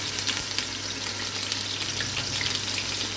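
Spice paste hits a hot frying pan and sizzles with a steady, crackling hiss under a faint low hum, close and continuous with no speech.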